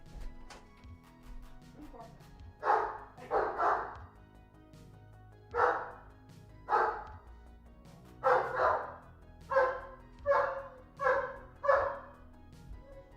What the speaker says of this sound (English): My dog is going absolutely crazy.